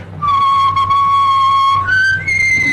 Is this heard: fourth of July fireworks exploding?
no